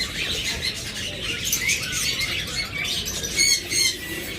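A pair of green opaline lovebirds chattering close by, a busy stream of high squeaky chirps and squawks that rises in bursts, with no talking.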